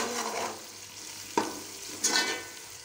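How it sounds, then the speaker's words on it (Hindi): Tomatoes fry in a pan for chicken macaroni, giving a soft, close sizzle. A spoon stirs them with a couple of scraping clinks, and no one talks. "इसमें टमाटर ऐड कर लेते हैं और इसको 2 मिनट के लिए भून लेंगे।"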